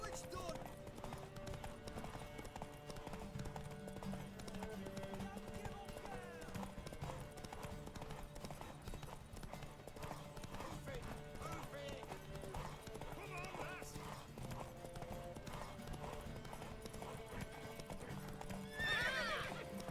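A horse gallops in a horse race in The Witcher 3, its hooves clip-clopping steadily and close up with a sharp whinny near the end, under game music and a talking voice.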